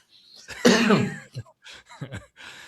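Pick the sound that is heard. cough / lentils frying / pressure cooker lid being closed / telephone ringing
cough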